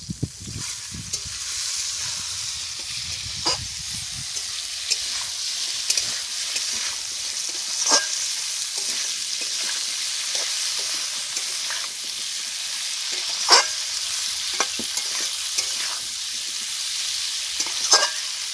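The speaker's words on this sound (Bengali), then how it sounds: "কাঁঠালটা দিয়ে ভালো করে ভাজা করে নেব।" Jackfruit and potato pieces frying together in a pan, a steady close sizzle with periodic clinks and scrapes of a stirring spatula, plus a brief low rumble near the start.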